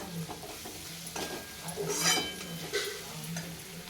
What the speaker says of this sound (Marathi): हे मसाले एक मिनटं परतून घ्या